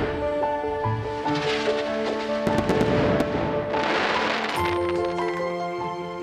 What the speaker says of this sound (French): Des feux d'artifice seront également tirés des toits du château.